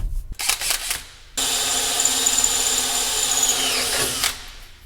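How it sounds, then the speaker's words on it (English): A power drill bores holes into a soft metal bracket, likely aluminum, removed from a tractor; a few short bursts give way to one sustained, loud whine of drilling that runs several seconds before stopping. "and then drilling a couple holes in it"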